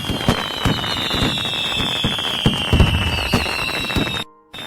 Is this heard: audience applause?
no